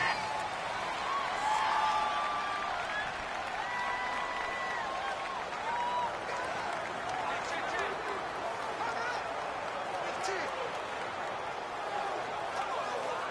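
Stadium crowd noise from a Madden NFL 19 football game, Jaguars versus Texans, a steady roaring wash of fans with scattered whoops, running under a commentator's voice throughout.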